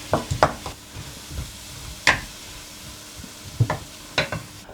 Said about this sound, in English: I'm going to start off by dry frying the mince until it's browned.